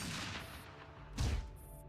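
Gunshot in Girls Frontline inside a metal tower, a sharp heavy crack with a booming low tail about midway, set against a faint earlier shot and a low ambient hum.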